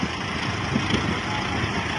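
A tractor engine runs steadily nearby in a soil-digging scene with trolleys, a loud, continuous low rumble with no breaks or voices.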